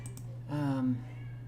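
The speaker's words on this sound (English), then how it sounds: "this cat here crying constantly" A single drawn-out cat cry, rising and then falling, lasts about half a second midway through the clip over a steady low electrical hum.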